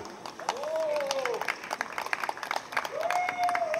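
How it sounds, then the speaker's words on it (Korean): A crowd at a regional trot song contest in Incheon applauds a singer's stage entrance with steady clapping under live music, while someone speaks over it. "여러분 박수 한번 주시기 바랍니다."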